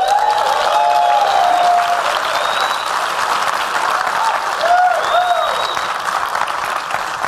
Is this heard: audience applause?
yes